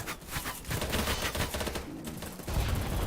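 Semi-auto and full-auto gunfire in the video game BattleBit Remastered: rapid, loud bursts of repeated shots that run almost continuously, with a brief dip before another dense volley.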